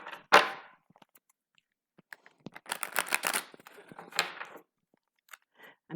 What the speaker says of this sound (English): Let's just give these cards a bit more of a shuffle.